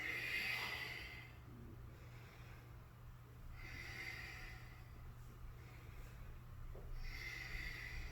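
Deep breathing through a yoga twist, three slow airy exhales spaced a few seconds apart, close but faint, with quiet inhales between.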